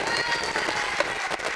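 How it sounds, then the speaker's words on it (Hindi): Applause from an audience at a Mahavir Jayanti cultural program rises as steady clapping and crowd noise, a dense continuous patter for a brief moment. "तालियों से इन बच्चों का एक बार प्रोत्साहन बढ़ाइए।"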